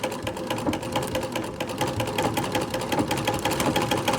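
Antique treadle sewing machine winding a shuttle bobbin, giving a steady mechanical whir with rapid rhythmic ticking that runs evenly throughout at moderate loudness, with no voices.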